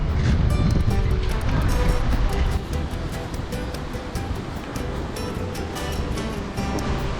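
Sea waves wash onto a beach in Rayong, Thailand, a loud, continuous surf roar close by with wind buffeting the microphone and no voices.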